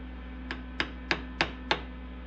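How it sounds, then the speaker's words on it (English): A cold chisel is struck by a hammer while working on a dash and steering column, giving five evenly spaced sharp metallic taps close by over a low steady hum, with no voices. "Take the cold chisel."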